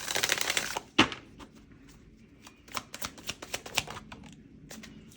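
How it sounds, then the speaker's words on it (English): Tarot reading cards are shuffled by hand: a dense riffling burst, one sharp snap, then a string of quick, crisp taps and flicks, close and clear with no talking. "Let's do one more shuffle."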